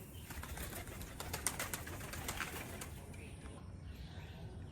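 Pigeons in a backyard pigeon colony, their cooing and wing flutters forming a steady close murmur with scattered brief flaps, a continuous dense bird chatter throughout.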